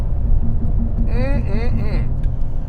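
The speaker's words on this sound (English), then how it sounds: "I just did a quick hard launch, little bit of wheel spin, but then it just stuck" A Cadillac CT5-V Blackwing makes a hard launch with a bit of wheel spin, giving a loud, deep engine rumble that swells and pulls, with a sharp higher whine midway and a voice speaking over it.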